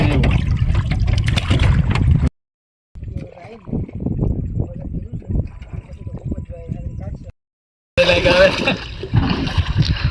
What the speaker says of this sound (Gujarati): જો તે ભૂપતભાઈ પાણી કાઢે છે